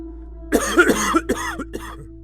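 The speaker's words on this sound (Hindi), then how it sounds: "देखिए फिर से आपकी खांसी बहुत ज्यादा बढ़ गई है।" An elderly father coughs in a harsh burst, several wet hacks and throat-clearing sounds over about two seconds, close and alone against a steady low hum.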